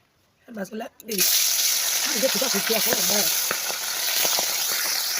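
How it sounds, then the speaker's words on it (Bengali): Fish frying in hot oil in a wok gives a loud, steady sizzle that sets in suddenly and holds throughout, with brief speech just before and faint stirring under it. "তেল দিয়ে মাছগুলো ভালো করে ভেজে নিব"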